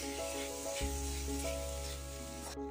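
A sweet filling of grated coconut, cardamom, jaggery and chana dal stirred in a pan for modak, giving a soft continuous sizzle and hiss over a steady low hum, with no talking.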